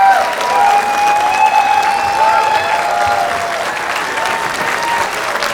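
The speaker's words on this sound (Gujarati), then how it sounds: "જોરદાર તાળીઓ for the legendary Shahbuddin Rathod" An audience applauds the legendary Shahbuddin Rathod at a comedy show. The clapping is dense and sustained, loud and steady throughout, with a hint of crowd noise and no talking.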